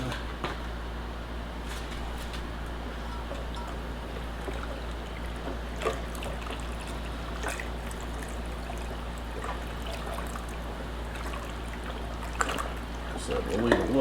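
White vinegar trickles and pours steadily into a zinc plating solution, a continuous soft liquid stream with occasional splashes, set against a low steady hum.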